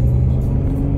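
A 2003 Cadillac CTS engine hums loud and steady from inside the car during a test drive after new brakes, rotors and pads, a constant low drone.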